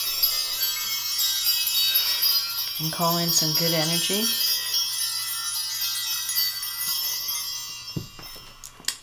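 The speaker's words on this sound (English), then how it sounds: "I'm going to ring the bells" Bells ring with a bright, shimmering tone that lingers throughout, and a voice speaks briefly in the middle.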